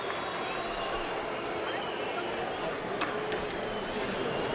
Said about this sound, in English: Tactical first round draws boos from the crowd.